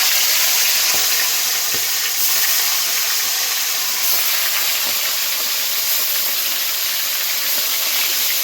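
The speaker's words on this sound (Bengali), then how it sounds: "চিকেনগুলো ভেজে নেব।" Chicken pieces fry in hot mustard oil in a wok, giving a loud, steady, dense sizzle and hiss that runs unbroken from start to finish, with a few faint clinks underneath.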